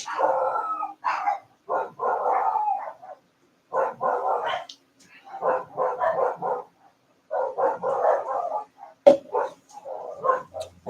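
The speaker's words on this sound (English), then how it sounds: "My dogs are going crazy anyway." Multiple dogs barking and howling indoors in bursts, loud and close, with short pauses between the volleys and yips mixed in.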